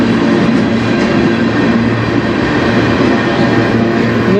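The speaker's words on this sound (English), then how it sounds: "this is a slow train. It'll be a 7-minute train." CN freight train rolling past on the Strathroy Subdivision at night, a loud, steady, continuous rumble of wagons on the rails with a low drone and faint wheel squeal, no voices.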